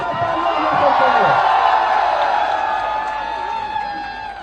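Rally crowd at Jantar Mantar in Delhi cheering and applauding, a loud sustained roar of voices and clapping that slowly fades.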